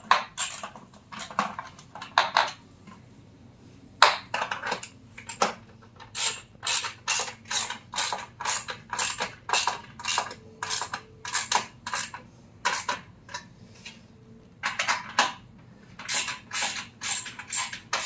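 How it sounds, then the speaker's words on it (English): Metal joints on a Vego Garden raised bed are tightened, giving many short, sharp ratcheting clicks in uneven bursts over a faint low background hum. "so now I've got all the joints tightened"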